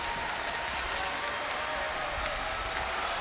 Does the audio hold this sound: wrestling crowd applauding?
yes